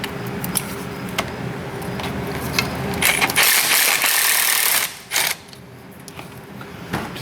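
A socket ratchet works a bolt under a Chevy S-10 pickup with repeated close clicking strokes. A harsher burst of rapid ratcheting comes near the end.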